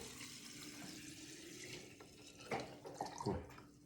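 Fresh liquid poured into a container during home spirit-making, a steady watery splashing with a few louder gurgling bursts near the end, close and alone.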